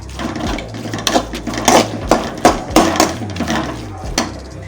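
A large sliced onion is stirred into a pan while cooking street-style chicken fried rice, with steady sizzling broken by a series of sharp scraping and clattering strokes of a utensil against the pan, close and fairly loud.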